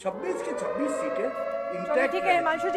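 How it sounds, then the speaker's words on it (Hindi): A siren sound effect plays during a Hindi news broadcast on election opinion polls, with a wailing, rising tone running steadily underneath a presenter's continuous speech. "सायरन की आवाज आपको सुनाई दे रही है"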